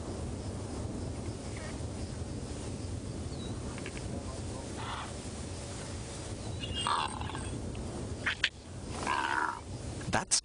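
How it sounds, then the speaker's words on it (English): A bird calls near a jackal and a cheetah, giving odd, gobbling, warbling cries in a few short bursts toward the end over a steady outdoor background hiss. "That strange noise comes from the bird, not the jackal."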